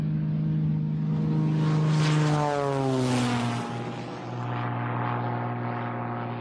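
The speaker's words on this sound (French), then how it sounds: "L'avion se cabre. Là, il va décrocher. Il décroche." A light propeller airplane in cruising flight is pulled sharply nose-up into a stall, its steady engine drone dropping in pitch as airspeed bleeds off, heard close and loud without talk.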